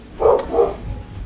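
A pet dog barks twice indoors in quick succession, two sharp, fairly loud woofs standing out over a quiet room.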